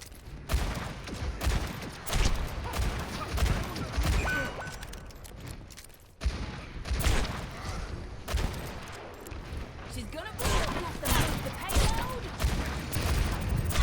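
Rapid bursts of gunfire from the Ashe hero in the shooter game Overwatch on the Havana map, loud repeated shots and volleys throughout, with a voice commenting over the action.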